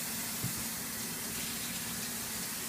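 Cold water pours steadily into a hookah base in a continuous, even gush, filling it at close range with no pauses.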